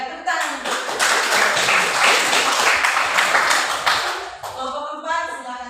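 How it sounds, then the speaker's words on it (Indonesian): Classroom applause from a group of students, dense and steady clapping that carries for about four seconds and then thins into scattered claps before fading. "Ya, baik, tepuk tangan"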